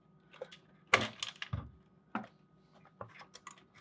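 Wire plugs being pressed and unlatched from a microwave control board on a Whirlpool microwave range hood, a few sharp close plastic clicks and snaps with small rattles between them, quiet and alone.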